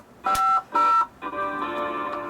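Telephone keypad tones sound on a call-in show line: two short, clear beeps followed by a longer sustained tone, loud and close with nothing else over them.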